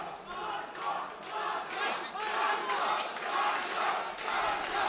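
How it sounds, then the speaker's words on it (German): A boxing crowd at a fight night chants and cheers for the red-corner boxer in rhythmic rising waves, a loud indoor roar that swells and falls repeatedly. "Publikum probiert noch einmal den roten Fuchs anzufeuern."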